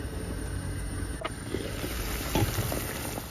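An omelet made from three eggs simmers in a covered pot, giving a steady, moderately loud hiss and bubbling, with a few faint clinks from the lid or pot.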